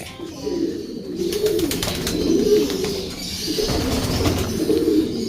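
Pigeons coo in repeated soft, throaty phrases, including a black check hen and a near-velvet bird in a loft, with some rustling and faint chirps around them.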